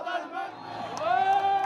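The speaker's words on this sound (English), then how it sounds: "he was drowned out by the chanting." A protest crowd facing a police line chants and yells together in a loud, sustained roar of many voices, with one rising shout near the end.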